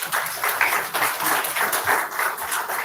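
Audience applause at a hybrid MuleSoft meetup, a steady wash of many hands clapping close by that lasts the whole stretch without voices.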